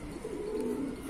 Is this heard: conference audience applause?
no